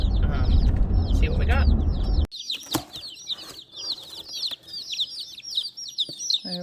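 Many baby chicks chirp in high, rapid peeps, continuous and close, after a brief burst of louder rustling and noise at the start as their shipping box is opened.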